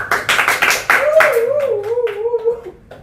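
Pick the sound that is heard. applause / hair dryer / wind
applause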